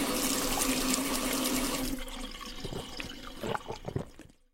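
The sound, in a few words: pouring a glass of tap water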